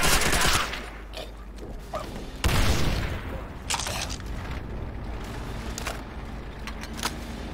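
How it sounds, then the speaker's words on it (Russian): Panzerschreck rocket launcher fired at a tank in Call of Duty: World at War, a loud blast at the start and another heavy boom midway, amid ongoing battle noise and mechanical clatter. "Черт, еще один танк! Дмитрий, развесни! Стреляй из панцершрека!"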